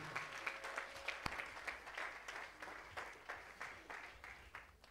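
A church congregation applauds in a steady, even wash of many hands clapping together, with a single sharp clap standing out near the start.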